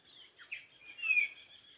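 Several black birds chatter and call from an umbu tree at sunrise near a water spring, a bright scatter of overlapping chirps and whistles at moderate distance, with no talking.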